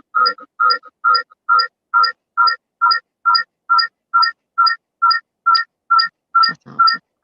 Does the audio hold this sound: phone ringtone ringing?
yes